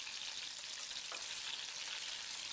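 Chicken legs frying in a pan and turned one by one with two ladles, a loud continuous hissing sizzle with one brief scrape partway through.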